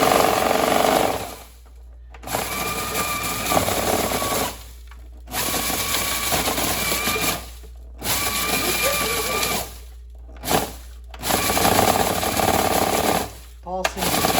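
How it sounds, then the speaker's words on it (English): Countertop blender whirring loudly through a batch of hot sauce ingredients including salt, run in several bursts separated by short pauses, with voices talking faintly in the gaps. "Blend it up."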